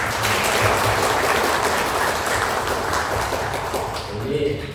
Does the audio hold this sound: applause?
yes